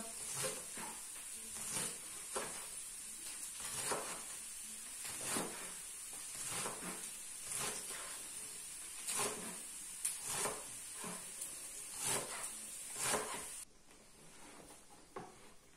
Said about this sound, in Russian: У меня там лук жарится.